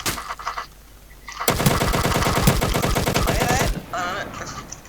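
Sustained fully automatic M4A1 rifle fire in a video game, a rapid, loud, continuous burst of shots that lasts a couple of seconds, with brief game sounds before and after.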